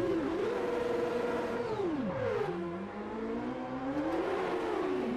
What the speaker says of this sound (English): just listen to the cars as they fly past